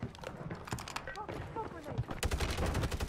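Rapid bursts of gunfire crackle in a Warzone battle royale match, a fast string of shots growing louder toward the end, with players talking over it.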